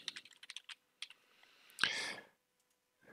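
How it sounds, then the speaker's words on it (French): Password being typed on a computer keyboard: a quick run of light key clicks, then a single heavier keystroke with a short rush of broadband noise, ending in quiet. "on va devoir taper un mot de passe de restauration"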